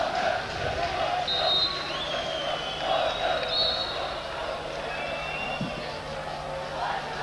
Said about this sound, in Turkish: İşte seyircilerin tepkileri